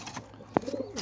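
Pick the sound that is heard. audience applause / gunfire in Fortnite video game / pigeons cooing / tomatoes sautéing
pigeons cooing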